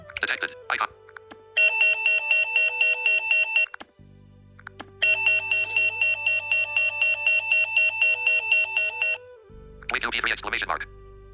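Alarm-style ringtone previewed from the Zedge ringtone app, a loud repeating electronic beeping pattern in two long bursts with brief gaps, with short voice-like sounds at the start and end.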